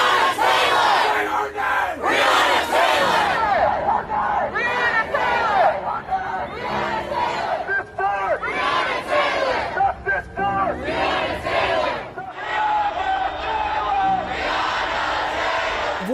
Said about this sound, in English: Voices chanting her name filled the air in the early evening.